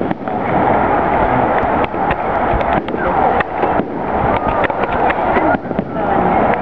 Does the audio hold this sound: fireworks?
yes